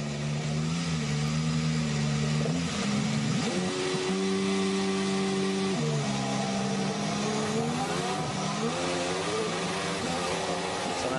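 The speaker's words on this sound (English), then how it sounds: "That's how a start on board 2014 style sounds." A 2014 Formula 1 car launches from the grid at the Monaco Grand Prix, heard onboard as the engine screams and climbs in pitch through rapid upshifts, loud and continuous with no talking.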